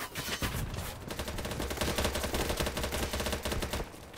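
Dense, rapid gunfire in BattleBit Remastered, a loud nonstop rattle of automatic weapons and overlapping shots with no talk.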